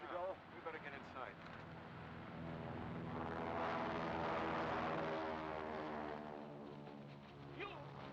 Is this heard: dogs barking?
no